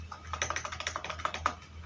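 Steady, rhythmic clacking of a computer keyboard as a Linux terminal command for curl is typed, with a dozen or more close, crisp keystrokes in quick succession and no talking.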